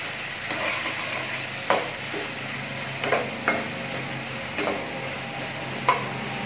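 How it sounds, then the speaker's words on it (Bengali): Onion and carrot pieces frying in a pan for mayonnaise cheese pasta, a soft steady sizzle broken by several sharp clinks and scrapes of a utensil stirring against the pan. "সবগুলো ভালো করে একটু ভেজে নেব।"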